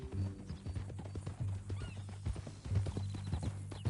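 Horse hooves clip-clopping steadily in the video game Red Dead Redemption 2, with a whinny and low mechanical rattles mixed in, close and fairly loud.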